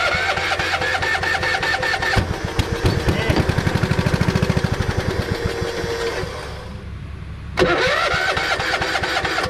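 A small Top Saw chainsaw engine is started during hazard tree work, sputtering, catching and revving with rapid firing pulses, briefly dropping before roaring back, close and loud while people talk over it.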